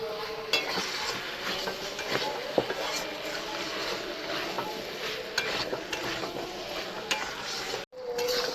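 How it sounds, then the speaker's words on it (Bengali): Malabar spinach stems and prawns are stirred in a pan, a spoon scraping and clinking against the metal in irregular strokes over a soft sizzle, with one brief dropout near the end. "ডাঁটাটা দিয়ে আমি ভালো করে মিক্স করে নিচ্ছি।"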